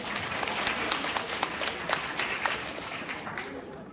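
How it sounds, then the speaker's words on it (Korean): Wedding guests clap together at a ceremony, a steady patter of sharp, crisp claps that runs throughout at moderate volume, with a faint voice underneath. "하객 여러분들께서는 큰 박수로 맞이해 주시기 바랍니다"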